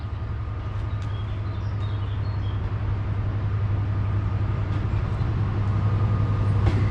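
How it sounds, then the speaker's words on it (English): Steady low diesel rumble from a train on the Severn Valley Railway, a continuous drone holding at moderate level for the whole stretch, with faint countryside sounds above it and no talking. "I can also now hear the rumble of a diesel."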